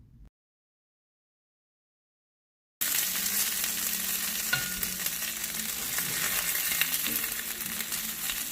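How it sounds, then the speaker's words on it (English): Turkey wings sizzle and fry while browning in a Dutch oven, a steady, close crackling hiss that starts abruptly after a short silence and carries on evenly with occasional small pops and stirring clicks. "Oh, I love that sizzle. Our turkey is getting nice and brown."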